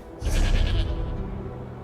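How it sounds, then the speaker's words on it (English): A goat in the video game The Elder Scrolls Online bleats once in a loud, wavering cry lasting under a second, over a low ambient hum. "Goats."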